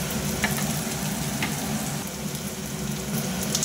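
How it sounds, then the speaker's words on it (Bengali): Chopped garlic and three medium onions frying in hot oil, a dense, even sizzle that runs without a break, close and fairly loud, with no voices. "তো এখন পেঁয়াজ আর রসুনটা ভালো করে ভাজা ভাজা করে নিয়ে"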